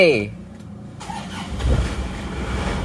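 A car engine is cranked and fires up from cold after losing six liters of oil, a brief starter whir followed by a steady, loud idle rumble close by.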